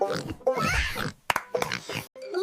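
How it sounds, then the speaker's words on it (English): A pig oinking and grunting in short bursts up close, the grunts broken by brief pauses. "It's a pig."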